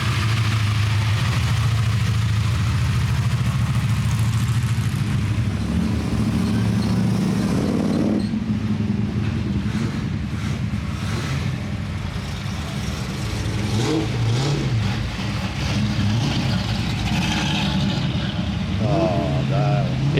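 A car engine idles and rumbles at an outdoor car show, steady and fairly close, with a few light revs, under crowd chatter and people talking nearby.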